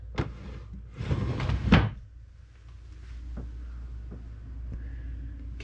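A storage drawer under a bed aboard a 63-foot expedition motor sailor slides open and shut: two short sliding rumbles close by, then softer scattered thunks and clicks in a quiet cabin.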